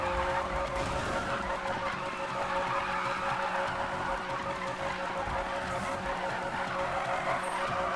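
Car tires skidding through a drift, a sustained steady screech with engine roar underneath, continuous and fairly loud throughout.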